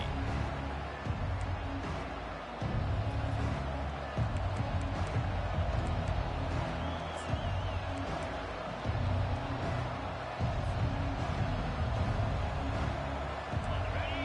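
A college football stadium crowd roars in a dense, continuous wall of sound for the whole stretch. The noise swells in places and no voice stands out above it.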